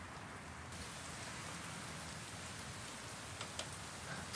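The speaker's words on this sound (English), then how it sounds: "And now it's raining." Rain in American Truck Simulator, a steady soft hiss of drops falling on the truck and road, faint and continuous, with a couple of slightly sharper patters near the end and no talking.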